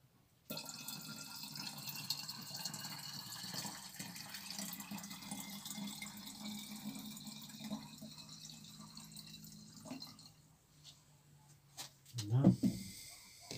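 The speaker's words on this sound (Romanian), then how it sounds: "O să le umplu cu apă până la urmă." Water trickles steadily into bottles of homemade windshield washer fluid mixed from spirit and water, a faint, even filling sound with quiet voices nearby and a brief louder clunk near the end.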